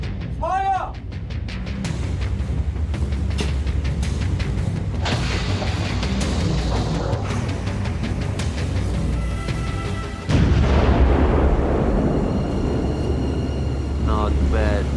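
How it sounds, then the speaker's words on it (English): Torpedoes striking a ship's hull midship in a submarine video game, with one hitting the magazine: a deep, sustained rumbling explosion roar that swells into a louder second blast, dense and booming throughout. "All 3 torpedoes hit midship. 1 torpedo straight into the magazine."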